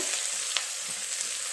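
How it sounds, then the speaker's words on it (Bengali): Onion frying in oil over a tempering of dry red chilli and whole spices for a masoor dal and egg dish, a dense continuous close sizzle with a faint stir click. "পেঁয়াজটা দিয়ে দেব"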